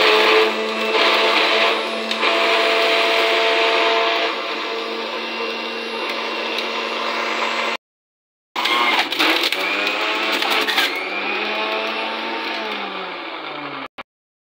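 A kitchen grinder whirs loudly and close while blending small pieces of sweet lime for juice. It runs in a long continuous burst, stops briefly, then runs again and winds down at the end.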